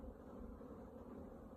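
Honey bees flying around a hive box in the woods, a steady dense buzzing hum from many insects, close and continuous with no break.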